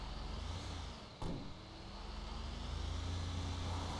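Car engine running steadily in GTA 5, a low continuous drone throughout with a brief thump around the middle, no talk.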